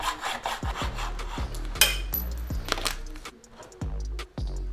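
Rhythmic back-and-forth strokes of a hand saw biting into a metal part of a Piaggio Zip SP 70cc racing scooter, a rasping scrape repeating about twice a second, close and clear with no voices.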